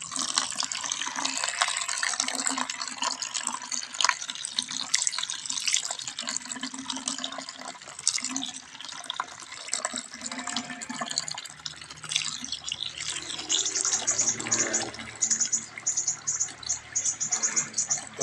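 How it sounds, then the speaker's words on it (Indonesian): Water pours steadily into sheep feed made with rice straw, about two liters going in as a continuous splashing, trickling stream that stays close and fairly loud throughout, with no talking. "lalu kita masukkan air cukupnya, kurang lebih sekitar 2 liter aja, ya"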